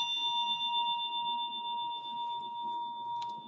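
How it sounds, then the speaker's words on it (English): A Tibetan Buddhist ritual bell rung alongside a dorje gives a steady, shimmering ring that sustains throughout at moderate loudness, with a faint brief clink near the end. "ring the bell"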